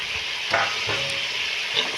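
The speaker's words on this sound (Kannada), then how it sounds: "ಇದನ್ನ ಈಗ ಹಾಕಿ ಚೆನ್ನಾಗಿ ಮಿಕ್ಸ್ ಮಾಡ್ಕೊತ ಇದ್ದೀನಿ ಎಲ್ಲ ಚೆನ್ನಾಗಿ ಎಣ್ಣೆಯಲ್ಲಿ ಫ್ರೈ ಆಗಬೇಕು" Vegetables, including chopped tomatoes, fry in oil for upma with a constant close sizzle, while a utensil scrapes and stirs through the pan in irregular strokes.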